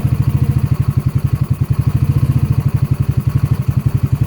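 A Hammerhead R150 engine with a newly replaced cylinder and piston idles close by, its loud, steady chugging made of rapid, even firing pulses with a slight clatter and no voices.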